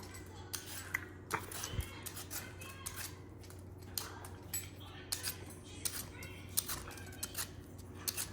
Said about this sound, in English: So I'm just peeling the sweet potato right now.